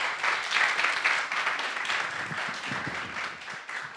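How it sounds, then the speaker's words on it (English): An audience at a final pitches event for a game-narrative program gives a big round of applause: dense, continuous clapping from a crowd, steady and fairly loud for the whole stretch with no voices over it. "So a big round of applause for them as well."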